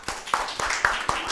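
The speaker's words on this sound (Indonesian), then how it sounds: "semua tepuk tangan untuk Anet dulu." An audience at a live show claps together, with a few sharper hand claps standing out over a steady patter and a murmur of voices.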